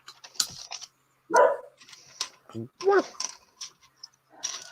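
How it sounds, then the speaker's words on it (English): A dog barks in short, separate bursts with some whiny yips mixed in, fairly close, while quiet background sounds fill the gaps. "Still barking."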